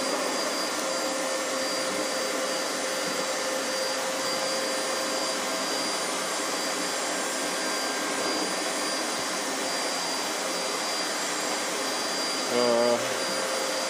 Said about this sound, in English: Okay, he's back to vacuuming.